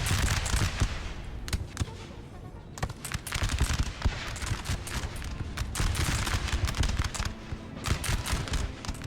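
Musket volley fire in Napoleon Total War, dense crackling shots in irregular bursts and rolling salvos, loud and sustained throughout, like a long fusillade.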